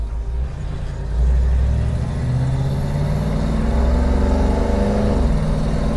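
A 1956 Ford F-100 panel truck accelerates along an open road, its engine a low steady rumble that swells after a second and climbs through smooth gear changes, close and loud with no talk.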